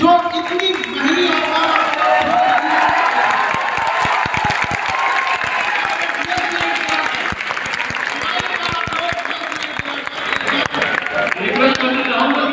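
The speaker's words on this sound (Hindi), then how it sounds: "एक बार खड़े होकर इन लोगों के लिए भी ताली बजाएंगे" Seminar audience clapping and cheering in Prayagraj, a long burst of dense applause with sharp individual claps and shouts, loud and continuous, with voices mixed in.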